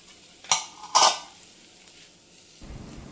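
Spiced vegetables for veg pulao being stirred in a pan, with two sharp clinks and scrapes of a utensil against the pan close by, then a quieter low rustle near the end.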